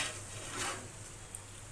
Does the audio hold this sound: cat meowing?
no